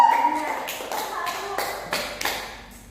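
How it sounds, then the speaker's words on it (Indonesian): Students in a classroom give a brief round of clapping, a handful of sharp, separate claps and taps spread unevenly over a few seconds and fading toward the end. "Tepuk tangan dulu deh"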